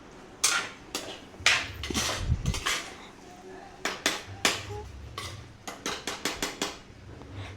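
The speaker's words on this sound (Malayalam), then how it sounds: "വഴറ്റി നല്ലപോലെ ഒന്ന് മിക്സ് എല്ലാം, കാരണം കൂന്തലെല്ലാം കൂടെ പിടിക്കാൻ വേണ്ടിയാണ്" Squid sautés in a pan for a curry, a metal spoon stirring and scraping with repeated sharp clanks and knocks against the pan over a low sizzle, loud and close.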